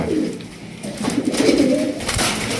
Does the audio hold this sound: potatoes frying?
no